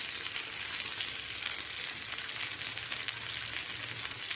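Vanjaram fish fries in oil in a pan, giving a steady, dense sizzling hiss that stays close and even throughout, with no voices.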